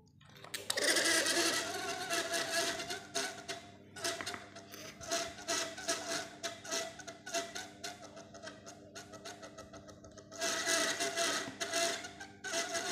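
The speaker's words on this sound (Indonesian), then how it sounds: "kipas angin ini suaranya kasar" A small faulty electric fan whirs steadily with a rough, rattling buzz, close by, its grinding tone rising and falling slightly throughout.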